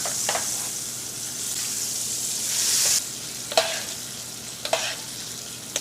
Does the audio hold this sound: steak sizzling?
yes